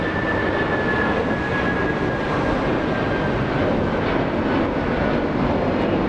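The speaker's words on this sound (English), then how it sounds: "United Airlines 1331 flying to Newark, a 757-200" A United Airlines Boeing 757-200 jet at Los Angeles International Airport: a loud, continuous jet engine roar, broad and steady for the whole stretch, with a faint high whine running through it and no talk.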